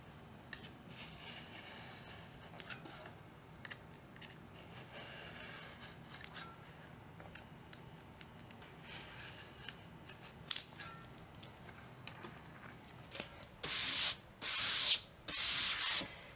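Wallpaper being cut with a flat blade where the paper meets the ceiling: soft scraping and rubbing at first, then several louder, close slicing strokes in quick succession near the end.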